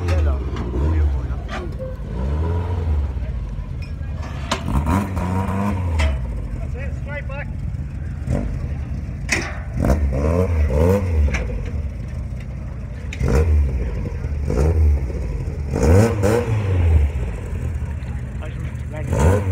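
A drifting car at Mondello revs its engine in repeated rising and falling surges, with tyre and engine noise at moderate distance, and people talk nearby throughout.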